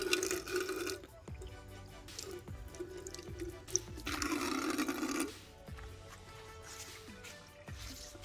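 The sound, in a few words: water on windshield glass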